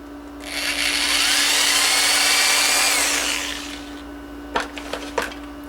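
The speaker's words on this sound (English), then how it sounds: "So I'm going to take my drill," A power drill bores into a model tree trunk from an evergreen model kit, a high whining buzz that holds steady for about three seconds then winds down, followed by a few short clicks and taps.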